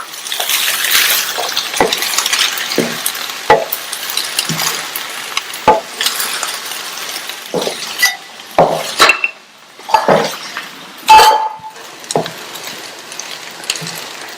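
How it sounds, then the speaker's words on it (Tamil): Cabbage rice stirred in a pan on a stovetop, a spoon scraping and clinking against the metal in repeated close strokes with soft rustling of the rice, no voices. "நல்லா மிக்ஸ் பண்ணி விடுங்க. சாதம் சூடு ஏறுற வரைக்கும் மெதுவா இந்த மாதிரி கலந்து கொடுங்க."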